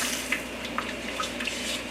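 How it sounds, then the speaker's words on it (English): Hot tap water running into a sink while a pan is washed with soap, a steady moderate splash with small scattered clinks and drips over it, no voices. "Now we can wash it with the soap and hot water."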